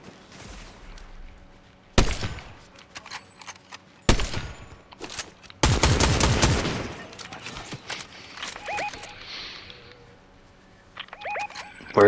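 Gunfire in a Fortnite Zero Build trios match: a few sharp, loud shots and a burst of rapid fire separated by quiet stretches, with fainter distant pops later.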